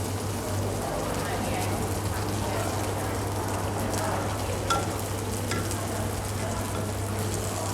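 Thai mussel pancake (hoy tod) fries in a little oil in a pan, giving a steady close sizzle with faint scraping while someone talks over it.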